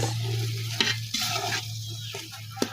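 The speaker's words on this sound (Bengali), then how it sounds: "এখানে শোল মাছটা দিয়ে দেবো কষানো শোল মাছ" Spiced snakehead fish frying in a wok makes a soft continuous sizzle, with occasional spatula scrapes and clinks close by, over a low steady hum.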